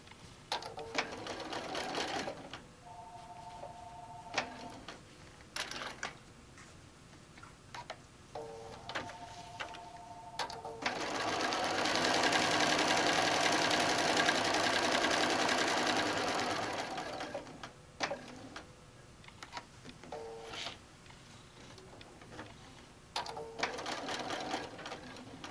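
Domestic sewing machine stitching Velcro onto a fabric bag: short bursts of whirring stitches separated by pauses and small clicks, then one long sustained run in the middle before brief stops and starts again.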